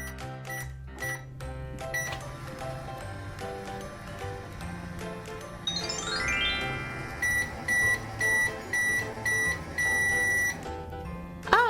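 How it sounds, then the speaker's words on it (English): A toy microwave oven gives a series of short, evenly spaced electronic beeps near the end, after a busy stretch of children's background music and jingle-like tones. "let's get Rocky in the microwave and see what happens"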